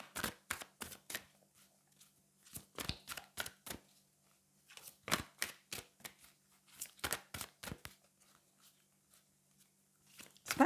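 Angel oracle cards being shuffled and drawn from a deck: quiet, close, irregular clusters of crisp card flicks and slaps, with brief pauses between runs and no talking.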